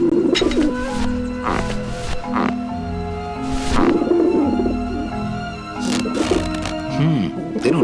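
Pigeons in the Grim Fandango video game cooing and warbling in repeated low throaty bursts, fairly close, with someone talking over them part of the time.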